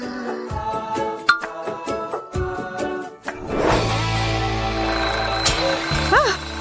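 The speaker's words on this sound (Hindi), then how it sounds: "सुबह हो चुकी है, इतनी जल्दी। उफ, बेकार का अलार्म क्लॉक।" A morning alarm clock rings with a run of repeated bright electronic tones that break into a sustained, steady ringing that continues to the end.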